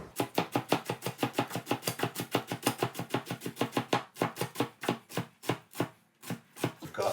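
A knife trims an artichoke on a cutting board in rapid, even chops, close and crisp, about five strikes a second, slowing slightly toward the end.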